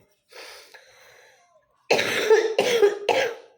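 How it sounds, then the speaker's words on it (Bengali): Someone with a heavy cold coughs close by: a faint breathy wheeze first, then three harsh, forceful coughs in quick succession. "কাশি দিতে দিতে কাশতে কাশতে দুই সাইড আমার ব্যথা হয়ে গেছে"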